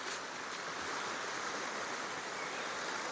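A river flows beside a forest wild-camping pitch with a steady, even rush of water. The hiss is continuous and fairly soft, and no one speaks.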